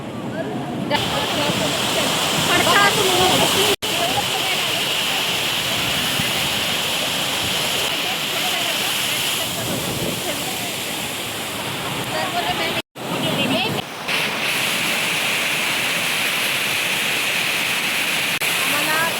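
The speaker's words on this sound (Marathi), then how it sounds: "हम वाटरफॉल देखने आए हैं गाइस. देखो वाटरफॉल" A loud, constant roar of a waterfall, broad and steady throughout, with a couple of brief dropouts and no audible talk.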